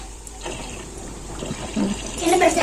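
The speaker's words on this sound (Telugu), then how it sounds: "ఇంకా వాటర్ మొత్తం ఇంకా బయటకు వెళ్తూనే ఉంది. సౌండ్ వస్తుంది చూసారా," A washing machine drains water out through its pipe during the rinse cycle, producing a rushing, gurgling water flow that swells louder toward the end.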